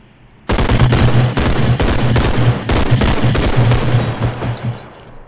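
Sustained close gunfire in the realistic shooter Bodycam, a loud rapid automatic burst lasting several seconds with brief gaps, starting abruptly from near silence.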